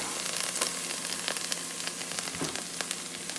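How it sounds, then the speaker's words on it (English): Minced garlic sizzles in a hot pan for soup, a soft steady frying hiss with small crackles and pops. "we're going to cook that garlic for about 1 minute until it becomes fragrant"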